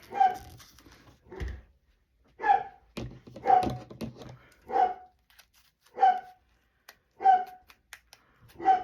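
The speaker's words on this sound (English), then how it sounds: "He's at the front door barking." A dog barks repeatedly at a steady pace, about eight sharp, close barks separated by short pauses.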